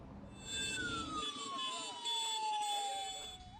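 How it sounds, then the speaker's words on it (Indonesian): A siren wails from a passing motorcycle convoy of former municipal police officers riding to a regency government office in protest, one tone gliding slowly downward over engine rumble and horns, with faint crowd noise. "Berkendara sepeda motor sambil membunyikan klakson dan sirene"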